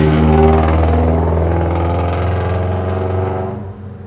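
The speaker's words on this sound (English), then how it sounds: "Sorry, a fart can went by." A passing car with a loud aftermarket exhaust drones and rasps nearby, its deep engine note swelling then fading away as it drives past.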